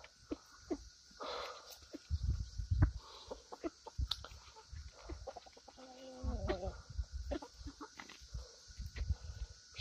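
Backyard chickens cluck and murmur close by in scattered bursts, with one longer rising call partway through, against a steady background hum.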